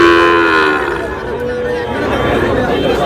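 A Sahiwal bull calf lows once with a short, loud moo at the start, heard at a busy cattle market in Barishal. Crowd chatter and people talking continue underneath throughout.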